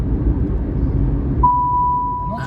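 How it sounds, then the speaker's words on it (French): A Dacia Spring electric car sounds a steady warning beep that starts midway and holds as a single sustained tone over low cabin rumble. "et là il est éteint et ça bip quand même"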